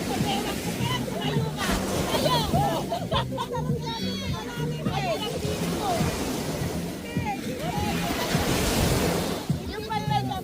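Strong surf rolls and sloshes along a beach in continuous washes, with children and adults shouting and talking loudly throughout.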